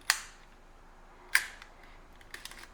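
Two sharp mechanical clacks from a film camera's shutter and mirror being cocked and fired, roughly a second apart, followed by smaller clicks and rattles of the mechanism in an otherwise quiet room.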